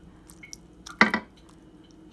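Wine poured over cabbage rolls: a single brief wet splash and gurgle, loud and close, then a second smaller splash, with faint clinks and quiet kitchen noise around it.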